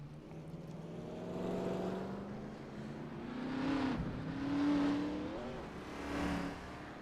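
Race car engines in the iRacing video game at Michigan, a droning multi-car roar that swells and fades in waves as cars pass, steady throughout with no talking.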